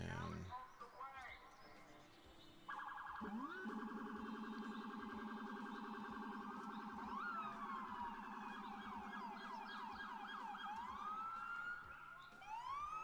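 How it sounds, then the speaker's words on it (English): Emergency sirens in the city-building game Cities Skylines wail in long rising and falling sweeps, several overlapping and steady for most of the stretch, with someone talking over them now and then. "I think those sirens aren't as loud as they were last time"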